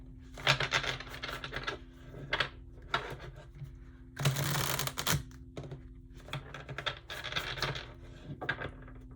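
Tarot cards are riffled and shuffled in repeated bursts, the crisp flutter of cards coming close and clear over a low background hum.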